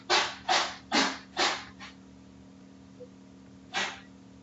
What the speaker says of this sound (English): that is my cat sneezing